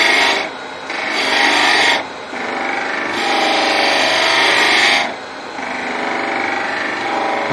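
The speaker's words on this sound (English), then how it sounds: "Detail gouge in there to take this out." A detail gouge cutting wood on a lathe while turning an Art Deco candlestick gives loud rasping, scraping passes, several bursts of a second or two each broken by short pauses.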